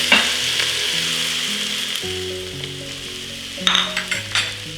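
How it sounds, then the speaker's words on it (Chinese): Garlic, ginger and spices sizzle and fry steadily in a pan for an Indian beef curry, a continuous close hiss with a few brighter crackling bursts near the end, under background music. "其他香料呢都一起加入，大概炒个1分钟左右。"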